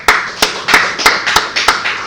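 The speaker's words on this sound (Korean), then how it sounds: "박수 쳐줍시다" A church congregation gives a brief round of clapping during a Korean sermon, sparse and uneven with several distinct hand claps spread over two seconds, fairly close and without talk.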